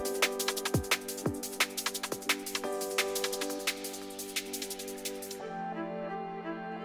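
A sampled song with automated reverb plays quietly, sharp drum hits over sustained chords until the drums drop out and the remaining tones ring on with a washy tail.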